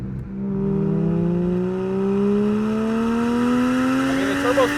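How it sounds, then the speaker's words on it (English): Turbocharged 1JZ engine in a Toyota Chaser sedan accelerating hard, its pitch climbing steadily in a rising whine and drone with a brief crackle near the end, heard from close by. "Turbo spools up really good and basically progressively climbs."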